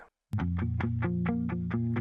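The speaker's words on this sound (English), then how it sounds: "added a little bit more distortion" Reamped electric guitar pushed through distortion in a prog rock mix, heard as loud, sustained chords with repeated rhythmic strums after a brief silence, alone with no talk.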